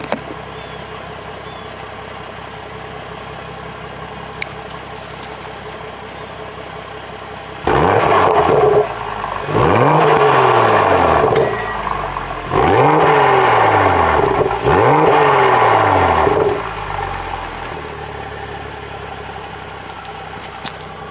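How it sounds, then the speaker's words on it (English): A 2025 BMW M240 engine revs hard four times in quick succession through an M Performance exhaust, each rev rising and falling sharply over a steady idle. "You can hear the M Performance exhaust a little bit on the exterior of the car."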